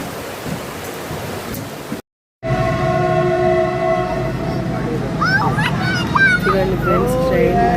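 A train near the Dudhsagar waterfalls in Goa rumbles close by, then sustained horn-like tones ring out over the rolling noise, with murmuring voices and chatter mixed in after a brief break in sound.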